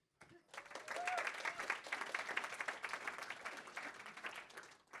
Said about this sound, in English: And I want a big enthusiastic clap because he's right at the back of the room